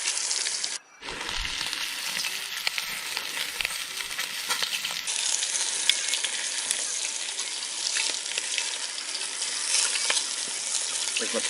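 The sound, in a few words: lamb shanks sizzling while frying at camp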